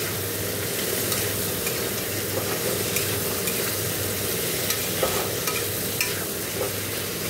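Potatoes sautéed with cumin powder in a pan, a steady frying sizzle with repeated spatula scrapes and taps at irregular intervals, close and fairly loud.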